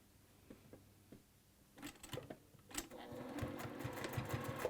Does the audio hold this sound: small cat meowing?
no